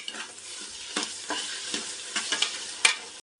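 Ginger garlic paste frying in a pan for veg pulao, a soft steady sizzle broken by scraping stirs of a spoon, one sharper clink near the end before the sound cuts off.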